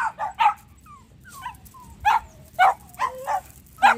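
Dogs on a farm bark and yip in excited, irregular bursts, mixed with high whining whimpers, fairly close over a low background rumble.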